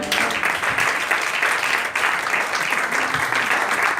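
A church congregation applauds and cheers during a service, with dense, steady clapping and crowd noise filling the whole stretch without a break.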